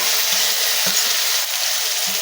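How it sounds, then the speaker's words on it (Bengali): Spice pastes of cumin, dry red chili, garlic, ginger and onion frying in hot oil give a steady, close hiss of sizzling with a few soft stirring knocks underneath. "সবগুলো ভালো করে একটু ভাজিয়ে নেব।"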